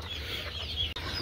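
A large desi laying hen gives a brief, soft cluck, faint against quiet background noise.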